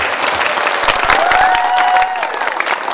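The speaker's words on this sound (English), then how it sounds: "big round of applause for them" An audience applauds at a village event, a loud, dense burst of clapping that carries steadily for about three seconds, with some voices and cheering mixed in.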